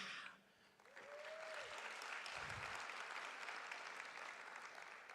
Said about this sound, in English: please you give them a loud round of applause